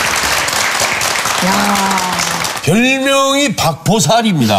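A studio audience on a Korean TV talk show bursts into applause over a low hum, and someone speaks over and after the clapping.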